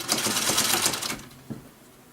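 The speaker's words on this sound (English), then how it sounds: "And the sewing machine I'm using, this one's a 301A." A gear-driven Singer 301A sewing machine stitching fabric, a fast rattling run of needle clatter for about a second before it slows and stops, close and fairly quiet.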